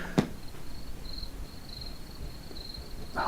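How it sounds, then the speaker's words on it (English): A played sound effect of crickets chirping, a faint, steady high-pitched trill repeating in short pulses, with a couple of brief knocks at the start and end and no talk. "Oh, the crickets are back."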